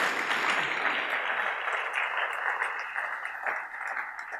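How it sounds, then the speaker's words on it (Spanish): A church congregation claps together in a sustained round of applause during a worship service, dense and steady at moderate loudness, slowly easing toward the end with no speech over it. "Dele una ofrenda de palmas al Señor con todo su corazón"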